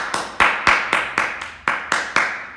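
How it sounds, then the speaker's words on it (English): A single person claps for birthday children at a primary school assembly, eight or nine sharp, evenly spaced claps with a slight room echo and no voices. "you should stand up, give them a clap"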